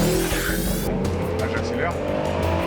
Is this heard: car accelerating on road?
yes